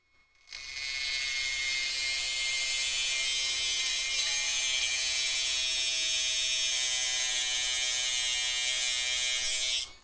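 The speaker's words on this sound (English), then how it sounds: "So, with the Dremel, you want to make sure that it retains all of its momentum." A Dremel rotary tool cuts through metal with a steady, loud, high-pitched whine that starts abruptly, holds for about nine seconds and stops.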